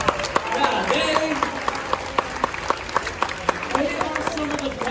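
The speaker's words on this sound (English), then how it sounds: "That deserves a round of applause." A crowd at SeaWorld Orlando gives a round of applause for an animal rescue team, scattered clapping running under a presenter's amplified voice, with distinct individual claps popping out of the crowd noise.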